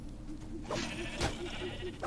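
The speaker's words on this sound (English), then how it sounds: "Sheep?" A sheep in the Minecraft Dungeons video game bleats several times in quick succession, fairly faint over low game background noise.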